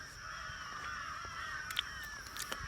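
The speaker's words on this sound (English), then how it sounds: "Shut up, crow." Crows caw several times in quick succession late in the sequence over a steady outdoor background with a constant high whine, fairly distant and not very loud.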